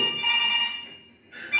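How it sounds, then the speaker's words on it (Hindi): An electronic phone ringtone plays in two bursts during a school annual day stage performance, a steady melodic tone, a brief pause, then the ringing starts again, fairly close and clear. "परफॉर्मेंस के बीच में किसका फोन आ गया?"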